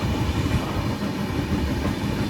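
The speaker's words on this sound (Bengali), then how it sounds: "2 মিনিটে যোশীডি থেকে ট্রেন ছেড়ে দিল" Howrah–Haridwar express train running, giving a steady, dense rumble and rattle of wheels and carriages that stays constant and close throughout, with no voices.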